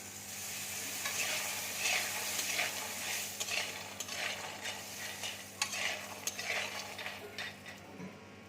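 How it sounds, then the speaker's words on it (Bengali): Bori lentil dumplings fry in mustard oil in a pan, with a constant crackling sizzle under repeated scraping strokes of a spoon, close and fairly loud throughout with no talking. "বড়িটা দেখো ভাজা হয়ে গেছে।"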